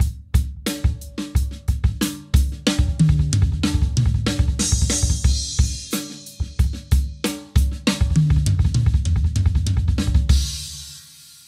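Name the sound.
drum fill of sixteenth-note triplets, double bass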